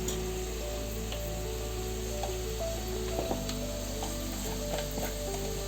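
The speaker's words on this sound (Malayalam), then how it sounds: "കറിവേപ്പില ഇച്ചിരി ശകലം ഒന്ന് മൂക്കണം" Curry leaves fry in hot oil for a rambutan pickle, giving a continuous close crackle and sizzle. A single utensil clunk sounds midway, and no one speaks.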